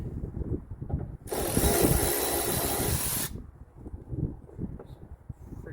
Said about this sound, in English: Grab our power ratchet here.